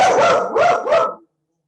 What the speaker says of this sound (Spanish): tuvimos ahí un perro en el medio